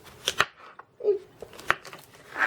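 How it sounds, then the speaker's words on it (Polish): A knife cuts button mushrooms into thick pieces on a board, giving a few short, close, crisp taps and slices with small pauses between strokes. "a ja kroję sobie pieczarki, grubsze kawałeczki troszeczkę"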